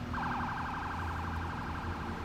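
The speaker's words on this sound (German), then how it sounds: "Hast du die Sirene angemacht" Police car siren in a video game, a quick warbling wail cycling fast and continuously, faint and somewhat distant under low background rumble.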